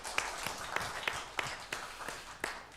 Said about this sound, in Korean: 우리 달서 2구역, 3구역 식구들 우리 박수로 한번 다시 축복하겠습니다.